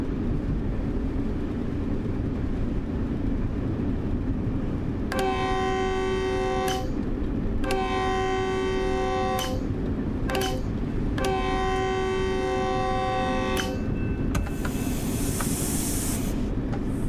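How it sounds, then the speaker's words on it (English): A train horn in Train Sim World 5 blows in several long, loud chords, three sustained blasts and a short one, over a constant low rumble of the moving train, ending with a hiss of air. "Americans really blow their horn a lot, don't they?"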